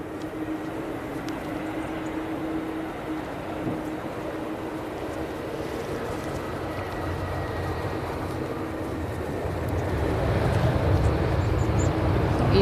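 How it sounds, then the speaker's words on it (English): An EasyJet Airbus A320 arriving from Geneva rumbles as a steady low jet roar at an airport, distant at first and swelling louder toward the end. "EasyJet. It's an A320"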